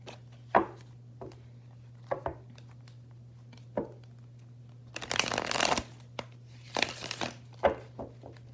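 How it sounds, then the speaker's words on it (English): A deck of playing cards is shuffled close up in a quiet room: scattered single card taps and flicks, then two fuller riffling bursts. No one speaks. "I like shuffling in front of the camera though"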